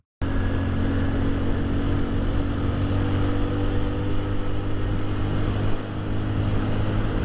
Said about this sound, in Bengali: চলেন আপনাদের একটু সাউন্ডটা শোনাই বাইকের সাউন্ডটা কেমন দেখেন